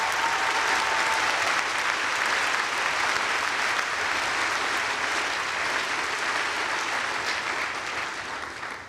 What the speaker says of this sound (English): Go right ahead. Applaud.